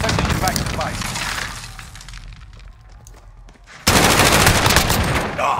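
Rapid automatic gunfire and cracking shots from the video game Call of Duty Warzone, loud bursts that fade into a quieter stretch before a sudden heavy barrage, with voices talking over it.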